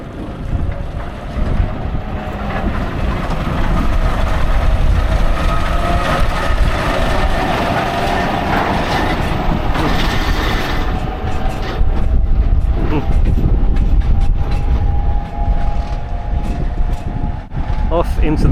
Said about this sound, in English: Off into the mist. It's quite a cool little train,